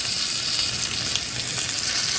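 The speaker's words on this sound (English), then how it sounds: "fried potatoes coming along pretty good" Parboiled potatoes fry in a pan with a continuous, close, crackling sizzle that holds at an even level throughout, with no voices.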